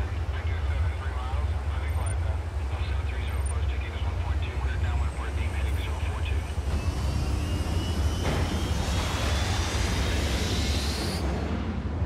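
A military aircraft flies in for air support in a special-forces war film, heard as a steady, loud engine drone with a rising jet whine sweeping upward near the end.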